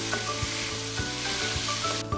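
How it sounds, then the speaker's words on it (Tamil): Chopped tomatoes sizzle steadily in a hot pan for tomato bath, with a continuous frying hiss and a few soft stirring scrapes at a regular beat, close and moderately loud, no voices. "தக்காளி சேர்த்ததுக்கு அப்புறம் இதை நல்லா வதக்கி விடுங்க."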